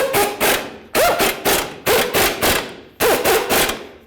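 Bolts being snugged on a 2005–2015 Toyota Tacoma power steering rack: four bursts of close, loud ratcheting clicks, each rapid series lasting under a second and separated by short pauses.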